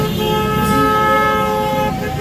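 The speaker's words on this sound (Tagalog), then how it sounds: "pag-ingay ng busina po tayo." Several car horns blare together at a protest in a loud, sustained honking chorus, held steadily throughout.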